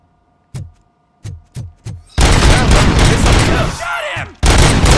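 Gunfire from RoboCop: Rogue City, opening with four sharp separate shots and then a loud, dense burst of continuous automatic fire. The barrage breaks off briefly and then resumes, near and dominating the scene.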